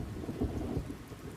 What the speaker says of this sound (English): festival goers were hammered by 5 inches of rain